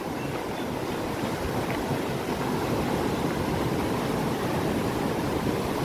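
Water released from Ujani dam rushes as a river, a loud, continuous, broadband roar with no breaks and no talking.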